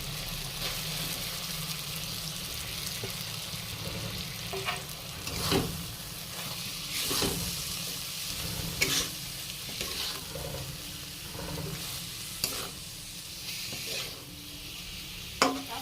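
Grated paneer stir-fried with spices in an oily pan: a continuous loud sizzle with repeated scraping strokes and occasional utensil knocks against the pan, close up.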